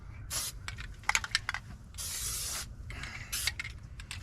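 Aerosol spray hisses onto a brake backing plate during a front pad and rotor job on a 2011 Nissan Altima 2.5 SL, in several short bursts and one longer blast, close and clear, with faint clicks between sprays and no speech.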